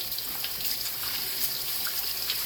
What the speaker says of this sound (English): So we're going to wash this rice too.